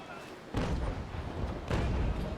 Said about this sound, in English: I hit one mast shot off those stern cannons.